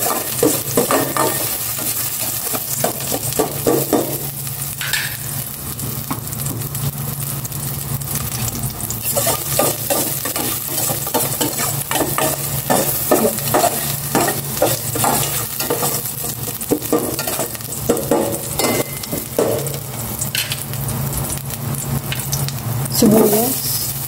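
Garlic and ginger fry with a steady, loud sizzle in a pan, stirred throughout with frequent scraping and clattering strokes of a utensil, close up and continuous for the whole stretch.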